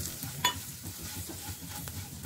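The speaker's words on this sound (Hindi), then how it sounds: "दो मिनट अच्छी तरह से फ्राई कर लेती हूँ फिर सारे ड्राई स्पाइसेस ऐड कर देती हूँ" Samosa filling of cauliflower with turmeric and dry spices fries in a pan, giving a steady soft sizzle with a sharp spoon scrape near the start and faint stirring knocks.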